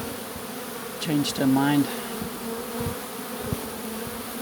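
A honeybee swarm hums loudly and continuously as the bees fly back into their hive, a close, dense buzz that carries on under a brief spoken phrase.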